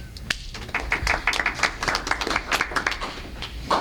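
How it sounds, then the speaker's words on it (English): Applause breaks out at a school board meeting, a scattered round of claps from a modest audience, fairly close, with voices murmuring over the clapping throughout. "he just got a round of applause"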